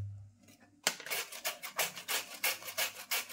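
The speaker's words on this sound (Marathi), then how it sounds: "हे जरा मॉडर्न किसणी आहे ना।" Pumpkin scraped across a modern kitchen grater for pumpkin vade, a quick series of rhythmic rasping strokes, close and fairly loud, with no talking.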